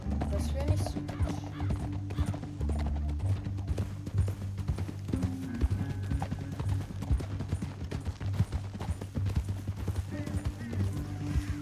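Horse hooves clip-clopping steadily in Red Dead Redemption 2, a continuous rhythmic trot at moderate loudness beneath game dialogue and talking players.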